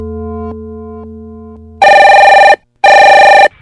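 A telephone rings in two loud, sustained electronic bursts with a short gap between them, following a low steady hum with faint ticks.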